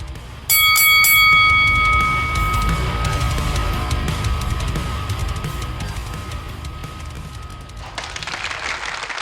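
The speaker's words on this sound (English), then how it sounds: "Ring the bell." A wrestling ring bell is struck several times in quick succession, then leaves a long, clear ringing tone that slowly fades. Crowd noise sits underneath, with a burst of cheering near the end.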